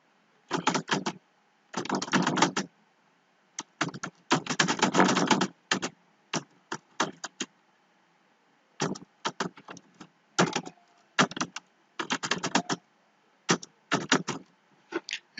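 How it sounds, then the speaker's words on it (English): Clicky bursts of typing on a computer keyboard, with short runs of keystrokes separated by brief pauses, close and fairly quiet. "you type,"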